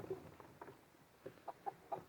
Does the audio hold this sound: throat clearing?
no